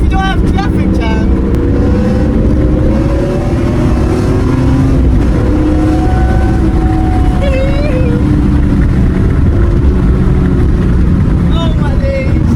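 A BMW E46 M3 with a manual gearbox is driven hard. The loud engine drone rises and falls as it revs between gears, and speech is heard over it.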